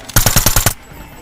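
A rapid burst of automatic gunfire in Call of Duty Mobile, about six sharp shots in quick rhythm, loud and close, then a quiet tail.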